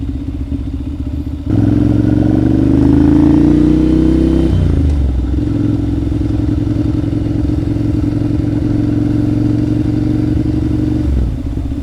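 A second-hand motorcycle ridden in Thailand, its engine switching on to a steady, near hum with a brief rise in revs, then settling to an even idle drone before cutting off at the end.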